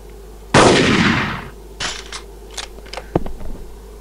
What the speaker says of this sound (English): Listen for the gunfire.